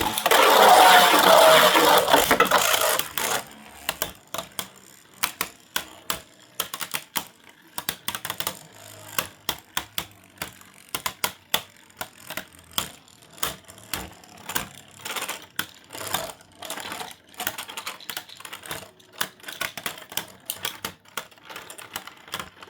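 Beyblade spinning tops, a Hasbro Nightmare Longinus facing a left-spin top, clash inside a plastic stadium with a rapid run of sharp clicking hits after an initial loud whirring rush.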